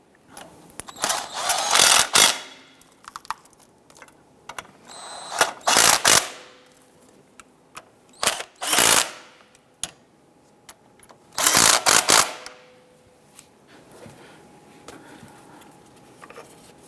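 Valve cover bolts on a 2008-2013 Nissan Rogue are tightened with a ratchet, several short bursts of rapid clicking separated by pauses and faint handling noise.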